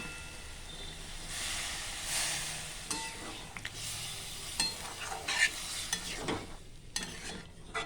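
Soybean masala frying in a pan as a little water is poured in, giving a loud hiss and sizzle with steady stirring scrapes throughout, close by.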